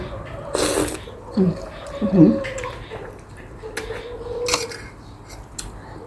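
A person sneezes from dust and dryness while cooking chicken kuay jab noodle soup, a sharp close burst early on, followed by a fainter one later, amid speech and kitchen noise.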